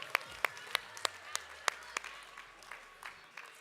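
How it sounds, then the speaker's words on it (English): Applause at a division gathering on Marco Island, a few distinct, sharp claps close by standing out over a soft crowd clapping further back, thinning out toward the end. "Big round of applause."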